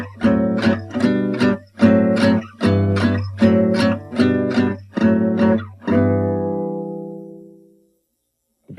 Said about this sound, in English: So in tempo, the whole thing sounds like this.